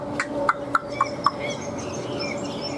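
A hwamei songbird gives a short series of four or five sharp, evenly spaced chirps up close, then falls quiet against a steady background hum.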